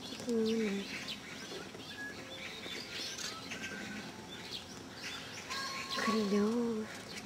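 Birds sing and chirp around an enclosure at the Seoul zoo, with clear tonal whistled phrases near the start and again near the end over a steady outdoor background hum.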